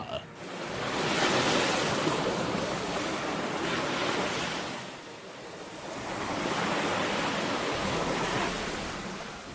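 Heavy surf crashes and rolls in long surges on the Karnataka coast during a storm causing sea erosion, buried in a constant roar of strong wind buffeting the microphone.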